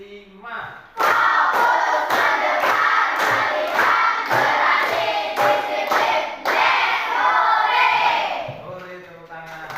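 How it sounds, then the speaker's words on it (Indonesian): A classroom audience at a teacher-training session claps together in a run of quick, evenly spaced group beats, loud and close, with shouts mixed into the clapping. "Boleh tepuk tangan."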